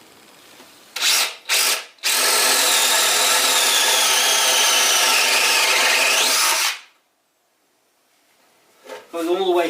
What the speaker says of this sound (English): I have 1 inch spade bit here, and I'll just drill this one side